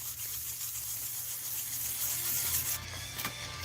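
Dremel scratches being buffed out by hand with small circular strokes at a workbench, a close, steady, dry rubbing and scratching that runs continuously with no talking.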